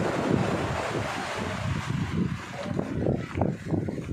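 Strong wind buffets the microphone over rough sea waves surging and washing near a boat, a continuous roaring wash with gusty swells rising and falling and no talking.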